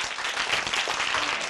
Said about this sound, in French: Ah, mais ça s'applaudit quand même